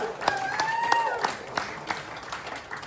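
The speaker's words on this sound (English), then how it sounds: "Round of applause for them." A comedy roast battle audience claps and cheers for the comedians, steady applause with scattered individual claps while voices talk over it.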